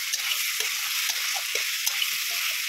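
Ginger garlic paste frying in a pan with chilli, a steady soft sizzle broken by a few faint stirring scrapes, close and fairly quiet, with no talking.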